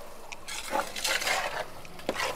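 Chopped onions being stirred and fried in a large pot while cooking a non-veg feast for fifty guests, with steady sizzling and several scraping strokes of a spoon against the metal, close and moderately loud, no voices.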